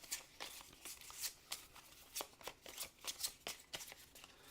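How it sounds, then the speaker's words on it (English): Cards from the Massive Darkness 2 Hellscape board game deck being shuffled quickly by hand, a run of crisp riffling bursts and flicks at close range, fairly quiet, with no talking. "Shuffle these up quick."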